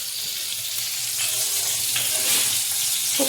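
Potatoes frying in hot oil in a home kitchen, a steady close sizzle with faint stirring scrapes and a few brief clinks, no voices.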